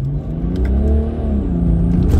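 BMW 335d with a stage 1 tune revs from inside the car, a loud, close engine note climbing steadily in pitch as it accelerates, with no talk over it.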